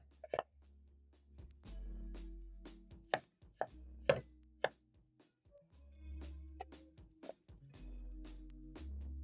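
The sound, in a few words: knife chopping potatoes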